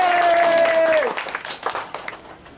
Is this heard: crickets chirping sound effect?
no